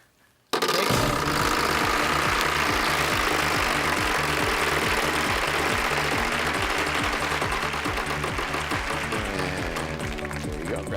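A prize wheel spins with a loud, rapid clicking that pulses steadily and slows slightly toward the end, starting abruptly after a moment of quiet.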